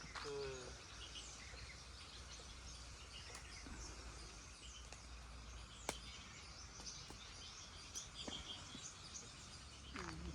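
Birds chirp and call intermittently at a distance over a quiet outdoor hiss in a mango orchard, with a few sharp clicks and an occasional faint insect-like trill.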